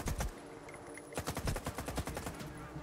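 Gunfire in S.T.A.L.K.E.R. 2: a few loud shots, then a rapid automatic burst of evenly spaced cracks that rattles steadily for over a second, close and punchy, with no speech.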